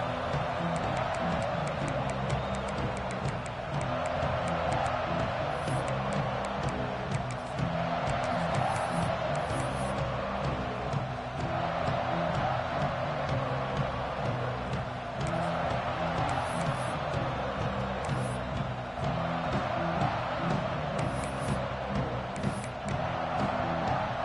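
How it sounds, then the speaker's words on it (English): A crowd at a Tennessee vs Oklahoma college football game, a broad steady roar of many voices filling the stadium throughout, with occasional brief louder swells and no break. "This crowd ready to make its presence known."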